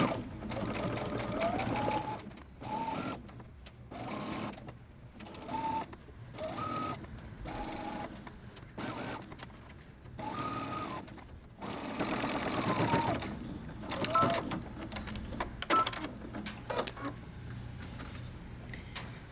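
Sewing machine stitching a sleeve seam on a dress, with several quick bursts of rapid needle chatter separated by short stops, close and fairly quiet, with occasional handling noises.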